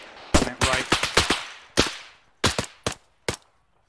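Heavy machine gun fire in ArmA 3, a military shooter, arriving as loud, sharp bursts and single cracks spaced irregularly over a few seconds, with no talk over it.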